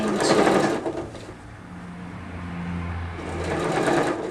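Sewing machine stitching binding onto a denim apron made from old jeans, a fast whirring run that slows around a curve then speeds up again, close and steady, with no talking.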